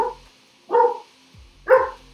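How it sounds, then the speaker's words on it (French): A dog barks three times in short, separate, close bursts with quiet pauses between them, heard alone in an indoor room. "Désolé pour le chien."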